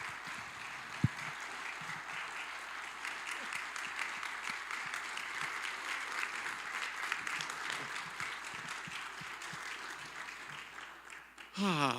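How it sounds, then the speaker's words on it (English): An audience at a volunteer appreciation event applauds, a dense, sustained clapping that runs loud and even for nearly the whole stretch before tapering off at the end. "I'm going to walk away, and you guys are going to applaud."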